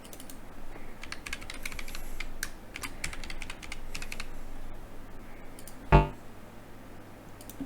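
Fingers typing on a computer keyboard, with irregular bursts of close, crisp key clicks and short pauses between them, plus one sharper louder knock near the end.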